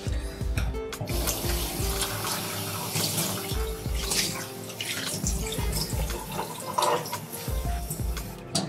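Stuffed bell peppers are rinsed under a running kitchen tap, giving a loud, close stream of splashing water that shifts and spatters as the peppers are turned in the flow, with no voices.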